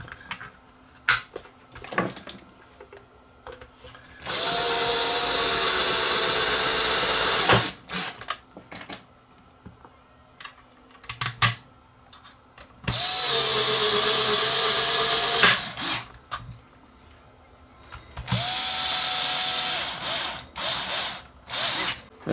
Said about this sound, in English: Cover goes on, put the screws in.